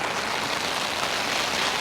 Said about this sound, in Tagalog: grabe na yung ulan